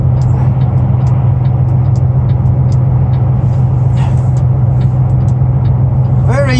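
Heavy road traffic rushes past a truck pulling an empty 100-ton lowboy toward Dickinson, North Dakota, a loud, constant engine drone and tire roar with a steady low hum and a brief voice near the end.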